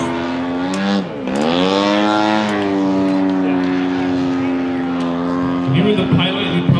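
A giant-scale gas-powered RC aerobatic plane flies an outside loop less than 100 feet off the ground. Its engine gives a loud, sustained buzzing drone that dips and rises in pitch through the manoeuvre, with crowd or commentary sounds near the end.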